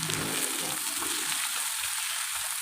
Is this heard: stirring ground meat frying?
yes